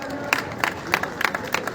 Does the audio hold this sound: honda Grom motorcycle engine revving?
no